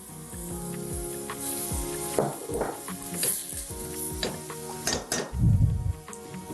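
Onion and olive sauce cooks in a pan for an Algerian dish, giving a steady close sizzle broken by utensil scrapes, clinks and a heavier knock of pan movement near the end.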